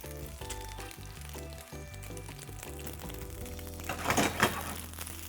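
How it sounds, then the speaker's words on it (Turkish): A steady sizzle of mushrooms frying in a pan, with a louder burst of crackling near the end. "Evet şimdi mantarlarımı atıyorum. Mantarlarımı iyice kızartacağım."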